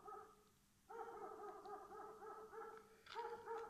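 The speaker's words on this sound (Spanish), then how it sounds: "¿Dónde está el perro?" A dog whines and whimpers in a rural village setting, giving a faint series of high, wavering whimpers and short yelps. No one speaks.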